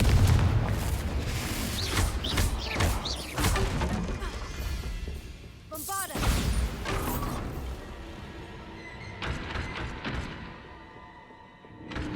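Booming fire spell blasts in Hogwarts Legacy, heavy crashing explosions with mechanical clatter and rumbling debris, loud and dense across the stretch, with a sharp burst midway and no talk.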